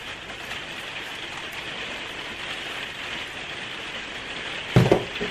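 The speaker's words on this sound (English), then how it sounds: "I'm sorry this noise is getting worse, it's the rain" Steady rain patters on an outdoor surface during a drone flight test, forming a continuous hiss with a brief louder thump of close handling near the end.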